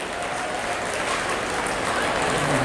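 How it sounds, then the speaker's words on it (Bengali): Audience applause after a stage show's lighting designer is introduced, with dense, steady clapping that holds at an even level throughout. "হাততালি হাততালি।"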